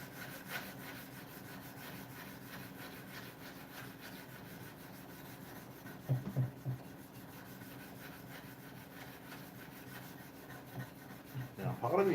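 Wood is hand sanded in steady, faint rhythmic strokes of rasping rub, with a few louder knocks partway through and near the end.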